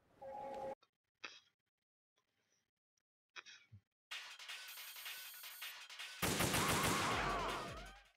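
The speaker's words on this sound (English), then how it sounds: "Should be 4 shots to the leg" Gunshots striking Vamp's leg in Metal Gear Solid 2 HD, a handful of sharp separate cracks spaced across near silence, followed by louder sustained game noise and effects.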